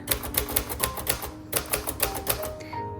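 A 1956 Royal Quiet Deluxe manual typewriter types at close range in a quick run of sharp key strikes, pausing briefly, then resuming with a final carriage-type clunk and bell-like ring.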